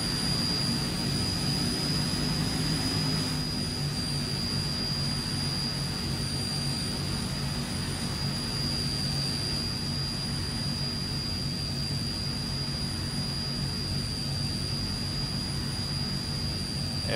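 An F-18 jet engine in Microsoft Flight Simulator, a constant loud roar and whine with high tonal lines, unbroken and steady throughout, with no talk.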